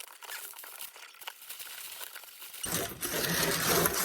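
Scissors and hands work through an oddly wrapped gift, with soft snips and taps first, then a loud burst of continuous paper crinkling and rustling up close.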